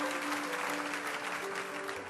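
A church crowd applauds during a sermon, a soft, even wash of many hands clapping at a distance, steady and without any break.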